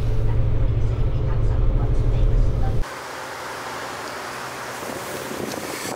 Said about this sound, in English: the wind is it's actually blowing pretty hard